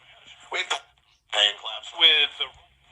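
Midland ER102 emergency radio tuned to a local AM station, giving short bursts of tinny, band-limited speech with interference, close and fairly loud, separated by brief quiet gaps.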